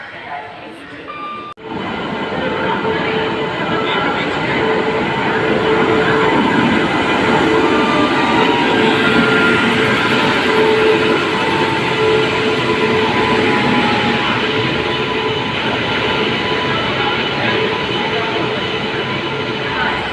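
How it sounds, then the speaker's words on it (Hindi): The Okha Puri Express passenger train rolls into an Indian railway station, a loud, steady rumble of coaches and wheels building after a quiet start and continuing close by throughout, with someone talking over it. "ये हमारी है ओखापुरी एक्सप्रेस 20820।"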